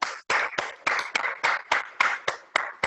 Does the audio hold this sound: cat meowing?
no